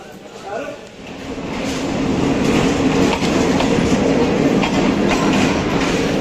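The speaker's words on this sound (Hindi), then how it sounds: "ट्रेन आ गई है और सर्दी बहुत ज़्यादा है भाई" A train pulls into a station with a loud, steady rumble and clattering wheels that swell and then hold, while someone talks over the noise.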